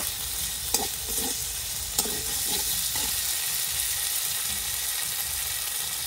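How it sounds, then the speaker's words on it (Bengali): Mango pieces sautéed with spices in a pan for a Bengali katla fish curry, a steady close sizzle of frying with a few soft scraping stirs near the start, no talking. "আমগুলো দিয়ে মশলার সঙ্গে একটুখানি কষিয়ে নেব।"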